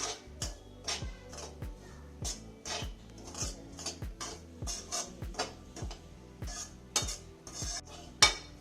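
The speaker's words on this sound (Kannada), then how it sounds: "ಇದಕ್ಕೆ ಈಗ ಕೊಬ್ಬರಿ ಹಾಕೋಣ ಮಿಕ್ಸ್ ಮಾಡ್ಕೊಳ್ಳೋಣ" A spoon scrapes and taps against a pan while chiroti rava and grated coconut are stirred together, giving repeated sharp metallic clinks at an uneven rhythm, close and fairly quiet, with no talking.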